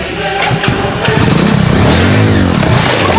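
A motorcycle engine revs and accelerates in a film scene, a loud, rising mid-pitched roar that swells over about three seconds.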